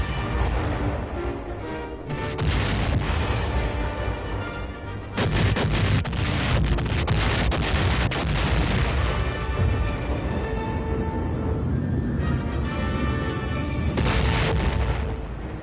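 Naval and air bombardment pounding Okinawa in the Pacific War, a loud, dense barrage of booming blasts and rumbling explosions that continues without pause, with heavier bursts arriving every few seconds.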